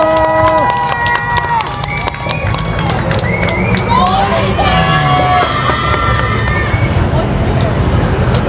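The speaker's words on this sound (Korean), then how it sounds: "여러분들의 뜨거운 환호와 박수 필요할 때입니다." A crowd at an outdoor political campaign rally in Michuhol-gu, Incheon, cheers and claps loudly and continuously, with whistles and raised voices mixed into the dense, close-up roar.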